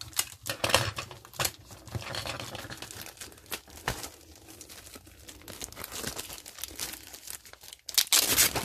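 Packaging of a Slowlifeplanner recipe-notebook box kit being opened, with crinkling paper, tearing and rustling handled up close in irregular bursts.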